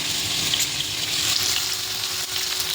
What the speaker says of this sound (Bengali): সব কিন্তু সবজি দিয়ে দিচ্ছে এক এক করে ভাজা হয়ে যাচ্ছে